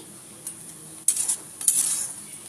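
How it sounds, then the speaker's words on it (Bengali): Onions frying in a pan with no spices added, a soft steady sizzle broken by two louder bursts of stirring and utensil scraping, close up and with no talk. "পেঁয়াজ ভাজা করছি, কোনো মশলা দিইনি।"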